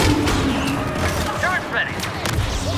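A grenade blast in Star Wars Battlefront II rolls out as a loud, deep boom amid constant battle noise and scattered gunfire, with voices calling out over the fighting.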